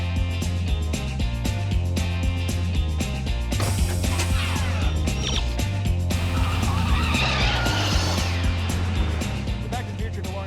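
Tire squeal from the Back to the Future DeLorean time machine car skidding, mixed under loud music with sustained screeching bursts.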